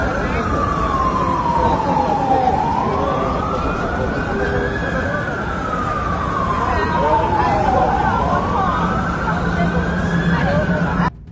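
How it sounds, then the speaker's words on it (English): A wailing siren from fire trucks and ambulances sweeps up and down in slow, repeated cycles, loud and steady, with a rumbling undertone beneath it, during a skyscraper fire at Dubai Marina. "Sirens echoed across the marina as fire trucks, ambulances, and helicopters rushed to the scene."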